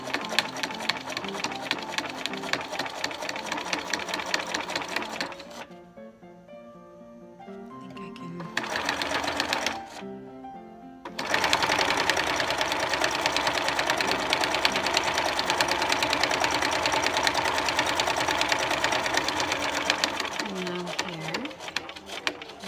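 Sewing machine stitching fabric for a slipcover, a fast steady whir in long runs broken by short pauses where the machine stops, with a person talking over parts of it.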